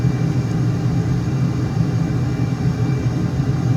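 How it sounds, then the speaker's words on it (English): A jet at full afterburner in Microsoft Flight Simulator gives off a steady, loud, dense roar with a heavy low rumble that stays constant throughout, with no talk. "I've got full afterburner right now"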